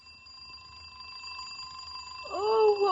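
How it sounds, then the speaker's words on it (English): An old-time radio drama alarm clock effect: a ringing bell bursts in near the end, loud and close over a steady faint hum, with no voices. "Oh, what was that? The alarm clock."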